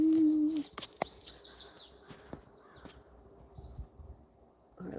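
Recorded bird sounds: brief chirps and a warbling call over a quiet room, fairly faint, along with a few soft clicks and knocks.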